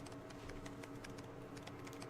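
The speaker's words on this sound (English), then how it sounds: "It's like, Fierce typing." Rapid, fierce typing on a computer keyboard from the video game Tales of Xillia: a dense, steady stream of sharp clicks over a constant background hum, with no talking.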